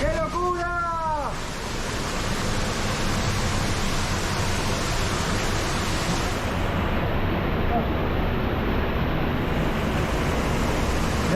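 Water rushing down a waterfall inside a cave in the hills, a steady loud broadband roar filling the whole stretch, with a brief voice at the start.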